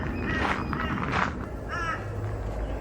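Crows caw a few times at a distance, spaced out over a steady low rumble of city and aircraft noise.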